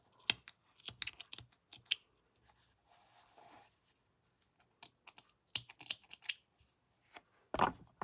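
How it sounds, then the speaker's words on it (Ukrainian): Scissors snip thread while a rabbit face is stitched on a soft toy, giving sparse, close, quiet clicks and small cuts separated by near silence. "вивела її і тепер просто обрізаю"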